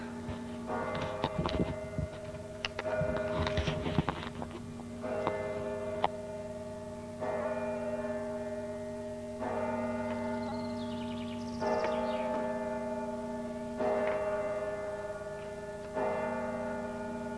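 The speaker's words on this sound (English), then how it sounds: "Church and the bell in the tower chiming 12 o'clock." A church bell in a tower chimes twelve o'clock, with a cluster of clanging strokes at the start followed by evenly spaced single rings about two seconds apart, each with a long humming ring-out at moderate distance.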